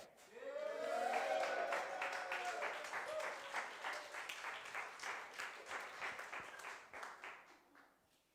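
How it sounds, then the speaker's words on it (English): Audience applause at a poetry slam during a summer street festival, a dense burst of many hands clapping that swells loud early and then thins into scattered claps as it fades out, with no talk over it. "I'd like you to give a round of applause for Stephen May!"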